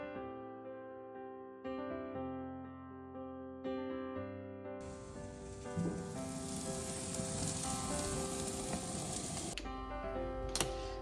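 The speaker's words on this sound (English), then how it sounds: "So let's get these steaks on the barbecue." Steaks sizzle on a barbecue: a faint, steady frying hiss rises midway, under and between soft tonal music that plays at the start and end.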